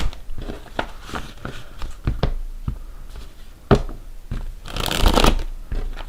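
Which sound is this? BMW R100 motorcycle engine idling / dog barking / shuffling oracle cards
shuffling oracle cards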